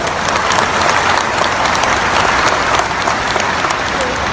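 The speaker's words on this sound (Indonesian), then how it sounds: "Tepuk tangan yang meriah buat Petren TV." A crowd at a gathering claps steadily and fairly loudly, with a dense patter of hand claps and no break.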